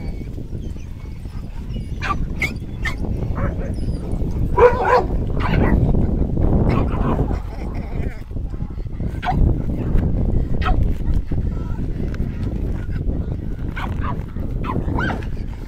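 Excited adopted dogs whimper and give short barks in bursts around a room, with high yelps over a constant rustle of mail being opened and a person talking quietly at times.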